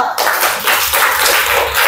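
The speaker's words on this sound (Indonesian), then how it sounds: "tepuk tangan untuk dia" Classroom applause for a student, a burst of many small hands clapping quickly and unevenly, loud and close, after a short quiet moment at the start.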